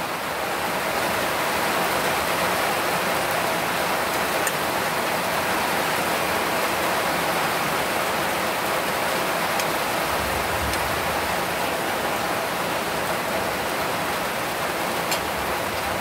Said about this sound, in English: you can hear the rain a beat from the house top